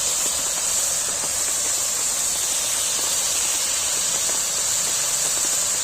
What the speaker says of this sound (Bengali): এরপর এর মধ্যে কিছু বাটা মশলা অ্যাড করছি।